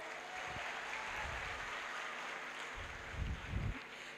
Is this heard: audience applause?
yes